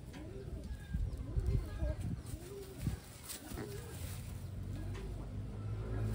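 Taiwan pigeons coo in a series of soft, rounded, repeated calls close by, while someone talks over them.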